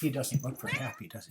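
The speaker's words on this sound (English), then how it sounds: "I got a kitty cat at the door meowing, and she wants to come in." A cat meows at a door, wanting to be let in, its cries mixed with a person speaking nearby.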